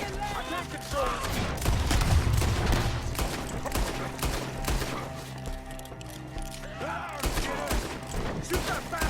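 Repeated gunfire in a Red Dead Redemption 2 shootout, sharp shots and bursts crackling steadily throughout, with shouted voices and orchestral music underneath.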